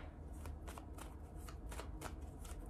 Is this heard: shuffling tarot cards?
yes